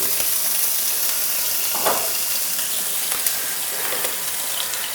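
Steady sizzling of batter frying on a hot pan, a continuous hiss with a few faint scraping clicks.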